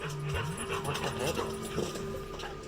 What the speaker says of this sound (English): The sound I've been hearing is the dog panting.